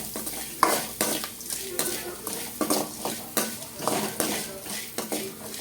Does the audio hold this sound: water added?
no